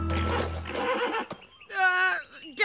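A horse gives a loud, close neigh, a wavering whinny that rises and falls for just under a second, following a stretch of dense, muffled background noise and a sharp knock.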